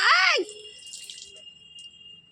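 Water splashes from a mug poured over a child's head at bath time, a short loud burst that fades into quieter dripping and trickling.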